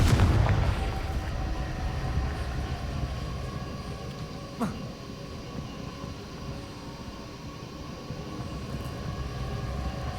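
Confringo blasting spell in Hogwarts Legacy, a loud burst at the very start that settles into a low rumbling, droning aftermath with a faint sharp crack midway and no talk.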